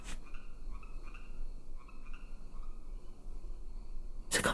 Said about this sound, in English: Oh, it is coming from the game! You hear the frogs, right?